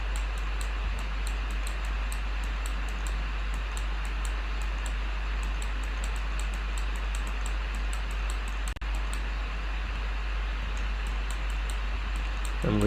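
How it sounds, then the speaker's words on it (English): A laptop cooling fan, its system working hard, runs as a steady broadband whir with a low hum beneath, continuous and fairly close for the whole stretch, with faint periodic ticking above. "So the noise you are hearing is from the fan of my laptop."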